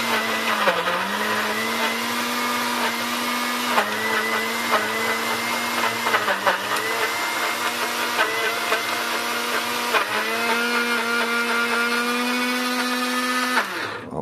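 A food processor grinds peanuts into natural peanut butter, a loud, steady motor whine running the whole time with slight pitch dips as the load shifts, close and continuous with no voices.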